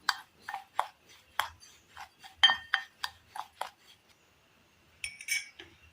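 Steamed puttu flour mixed with salt in a bowl: a spoon scrapes and clinks against the bowl in a string of light, uneven taps, close and quiet, with a short pause before a final few clinks.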